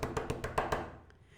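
A run of six sharp, evenly spaced knocks on a gate at the south entry in a staging of Macbeth, loud and close, then a couple of faint taps as it fades to quiet.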